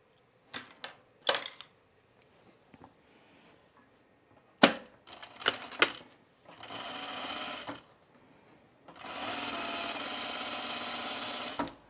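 A sewing machine stitching a top with tucks runs in several bursts, from short stuttering spurts to longer steady whirring runs, close and fairly quiet, with faint clicks between passes and no clear talking.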